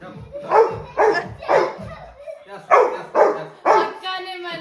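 A pet dog at home gives several short, close barks and yips in a lively, bouncy rhythm while people talk and coax it to jump and dance.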